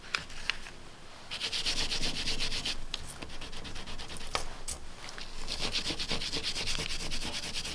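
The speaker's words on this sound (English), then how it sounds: "I'm going to wet my scouring pad and start to remove some of this stuff." Wet scouring pad scrubbing layered paper decollage soaked with water, a close repetitive rasping rub in quick back-and-forth strokes, with a brief pause before the steady scrubbing resumes.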